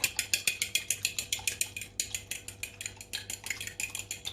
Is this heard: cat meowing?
no